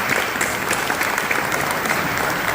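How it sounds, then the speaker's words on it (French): Audience at a Moroccan cultural celebration in Saint-Denis claps together in a loud, continuous burst of applause, sustained evenly for a couple of seconds. "et je souhaite qu'on l'applaudisse"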